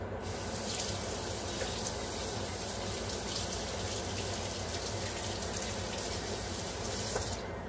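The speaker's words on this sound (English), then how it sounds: "Wash my hands." Hands washed under a running tap at a kitchen sink, a steady hissing splash of water that continues at an even level for several seconds, with no talk.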